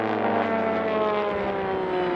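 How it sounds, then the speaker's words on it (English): A racing biplane at the National Championship Air Races in Reno, Nevada, its engine a loud sustained droning roar that slowly shifts in pitch as it passes, filling the whole moment without any talk. "Just an unbelievable display of power from this dominant biplane."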